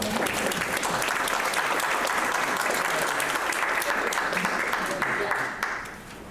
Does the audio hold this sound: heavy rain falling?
no